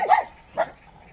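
Two short, sharp barks from a small rescued Teddy dog, close and fairly loud, spaced about half a second apart with quiet after.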